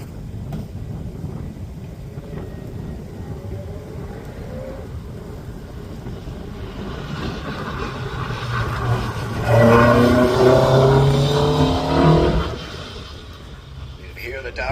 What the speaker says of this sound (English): You can hear the Darien making its way towards you